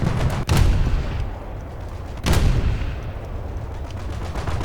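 Heavy naval gunfire from the 280 mm turret guns of the SMS Von der Tann battlecruiser in War Thunder: two loud booming salvos about two seconds apart, each with a rumbling tail, and no speech.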